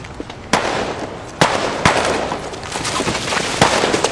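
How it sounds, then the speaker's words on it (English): Gunfire from a TV crime drama episode set in Baltimore: several sharp, loud shots at irregular intervals ring out over a noisy, crackling background, with no talk. "There is just gunshots going off everywhere the start of this episode"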